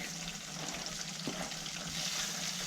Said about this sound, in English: we're going to fry the sand gobies in the butter with the wild garlic